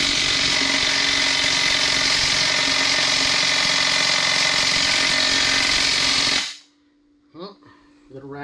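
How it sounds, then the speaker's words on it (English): A ratchet wrench working on a burnt-up SRT4 transmission, a loud, dense, continuous mechanical clatter close by that cuts off abruptly, followed by a few faint clicks and brief voice sounds. "little ratchet, don't want to do it"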